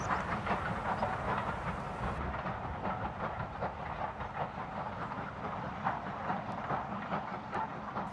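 Model railway train rumbling steadily along its track with a continuous clickety-clack, a close, even running sound that holds for several seconds and slightly dulls partway through as the train enters a tunnel.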